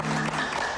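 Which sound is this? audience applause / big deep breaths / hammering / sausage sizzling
audience applause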